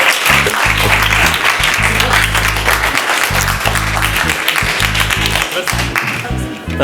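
A comedy club audience breaks into loud, sustained applause and cheers for the next comedian, with clapping continuing throughout over a rhythmic music beat.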